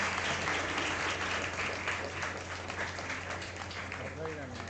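Applause from an audience at a university special lecture on stress and mental health at the workplace, a steady dense clapping held throughout at moderate level with a constant low hum and faint voices beneath.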